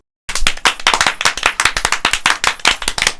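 Sharp hand claps from several people at a village gathering, fast and irregular, loud and close, filling the whole stretch after a brief silence at the start.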